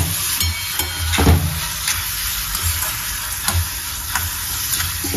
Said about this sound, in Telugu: ఇప్పుడు బాగా కలుపుకున్నామండి